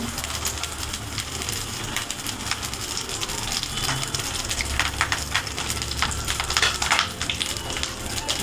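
Bhetki fish paturi frying in a pan gives a steady, busy crackle and spatter of hot oil that runs evenly throughout at moderate loudness, with no voices.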